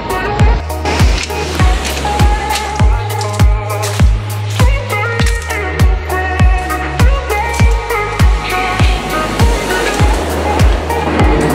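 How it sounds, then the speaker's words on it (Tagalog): Loud waves crash in a steady rhythm at Cape D'Aguilar Marine Reserve, Hong Kong, roughly every half second to second, with deep booming surges and spray, close and continuous with no talk. "At maingay talaga yung alon guys, masakit sa tenga."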